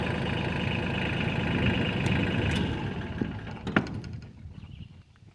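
Mahindra Max 26 XL hydrostatic compact tractor with its engine running, a steady close rumble that winds down partway through, followed by a few light mechanical clicks as it quiets.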